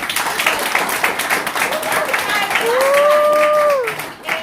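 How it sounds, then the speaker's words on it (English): A crowd at a market event gives applause for Charlene, steady clapping filling the room while a voice rises and calls out over it. "So give Charlene a massive round of applause."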